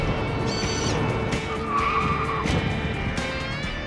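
Car tires screeching as the vehicle skids in reverse during a stunt test, several loud squeals with rising and falling pitch over a close, steady engine roar.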